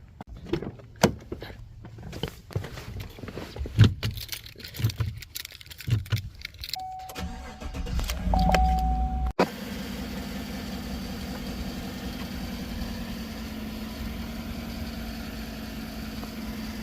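Chevrolet Silverado pickup fresh from a rear brake replacement: keys jangle and cabin clicks rattle, then the engine turns over and settles into a steady, close, even idle hum that runs to the end.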